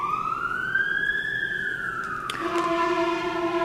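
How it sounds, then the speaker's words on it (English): An ambulance siren sweeps past outdoors in a long wailing tone that rises and then drops in pitch as it passes, fairly loud over a steady background rumble. "Excuse a loud ambulance."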